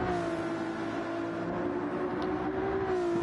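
A GT race car in a sim racing game holds a steady engine drone on the Saint Croix circuit, its even tone smooth and continuous, with a slight rise and fall as it heads into a braking zone.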